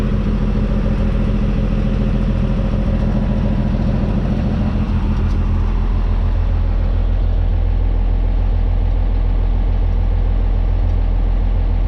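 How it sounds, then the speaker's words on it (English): A steady engine idle after a cold start rumbles on throughout, low and even, with a constant mechanical chug and no voices. "but it's idling pretty good."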